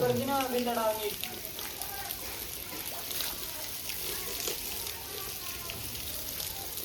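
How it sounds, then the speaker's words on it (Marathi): Water runs and trickles across a house floor in a steady, faint, hissing flow, with people talking over it. "पाणी बघा बघा ते पाणी कुठे तिकडे पळायला लागले"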